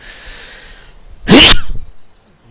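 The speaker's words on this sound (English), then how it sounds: "I'm going to have to sneeze" One loud, sharp sneeze bursts out close by after a quiet stretch, then fades into near silence.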